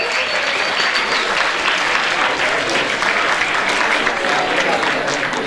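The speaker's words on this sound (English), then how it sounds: "Give them a round of applause." Loud, dense applause from a party crowd at an Ottawa New Year's Eve event, sustained and steady from start to finish.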